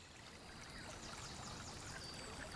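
Small woodland stream flowing steadily, a soft continuous babbling and trickle of water, fairly quiet and close, with no voices.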